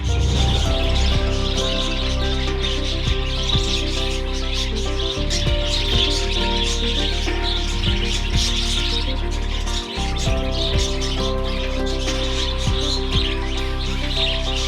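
African lovebirds in a farm cage chirp and tweet busily, a dense layer of overlapping high calls from many birds nearby, along with occasional scuffing and rubbing noises.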